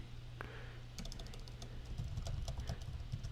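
Keys clack in quick uneven bursts as text is typed on a computer keyboard, the clicks close and fairly quiet over a low steady hum from the room or machine.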